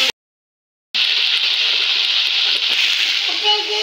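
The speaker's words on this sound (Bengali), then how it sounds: "তো এই যে বন্ধুরা দেখো মাছের তেলটা ভাজা হচ্ছে।" Fish sizzling in hot oil in a pan, a steady, close, loud hiss that begins after a short silence and continues without a break, with faint clicks of cookware.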